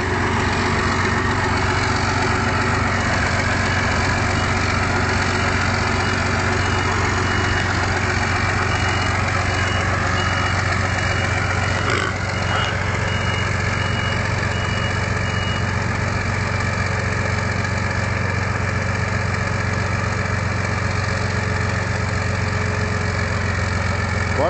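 A Volvo BM 800 tractor engine idles steadily and loudly for a long stretch, a deep even diesel rumble with a constant throb and no voices over it.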